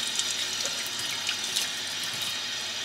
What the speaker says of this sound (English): Wash it off. Look, there's a lot of dirt coming off.